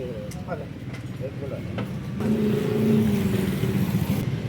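Car being driven into a workshop, its engine rumbling low and swelling louder partway through as it moves in, with a few clanks and voices in the background.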